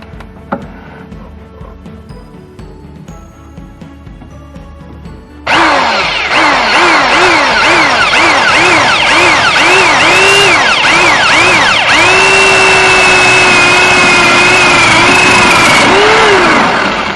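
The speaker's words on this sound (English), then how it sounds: "now I'm going to attempt to drill a 1/2 inch hole here." A handheld power drill boring a half-inch hole into wood, starting abruptly after a quiet stretch and running loud and close for over ten seconds, its motor pitch dipping and rising repeatedly under load.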